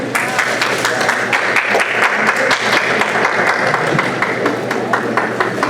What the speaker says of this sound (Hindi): तालियां जरूर बजती रहें